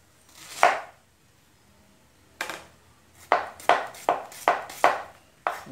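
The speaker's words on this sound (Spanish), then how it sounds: "Vamos a picar la cebolla" Knife chopping onion on a board for a rice dish: one sharp chop, a pause, then a quick run of six firm chops, close and distinct with no talk.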